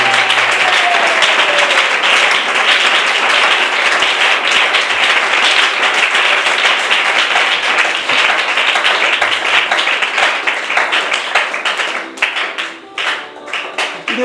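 Church congregation applauding Jesus, dense, loud sustained clapping from many hands that continues for most of the stretch and thins into scattered claps near the end.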